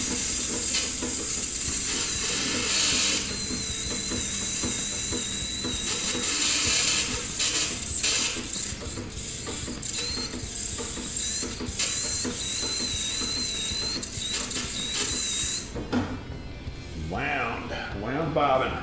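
Bobbin winding on a 1910 treadle-era sewing machine, a continuous mechanical whir with creaks and ticking, then stopping near the end as a voice speaks.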